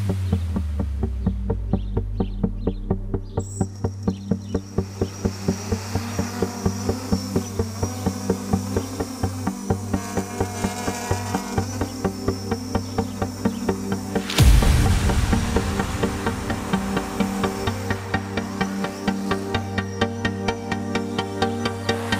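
Motors on a ZMR 250 quadcopter drone run with a steady, insect-like buzzing whine that rises in pitch as they spin up, then surges briefly, all loud and close throughout with no talk.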